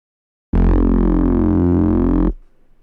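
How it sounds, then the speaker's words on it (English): Classic Reese bass synth from Ableton Operator with processing off, one loud sustained detuned low note with a slow phasing movement, held for about two seconds and then cut off, alone. "The reason I've done this is to get a classic Reese sound like this."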